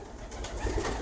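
Pigeon held in the hand by a breeder, giving a low, soft coo that swells briefly close up over faint background noise.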